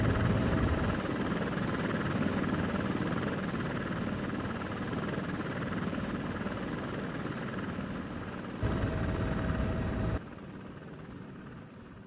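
A Comanche helicopter taking off in the Comanche 3 Gold game, its rotor roar loud, dense and steady throughout, dropping in level near the end.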